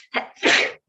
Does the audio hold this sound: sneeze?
yes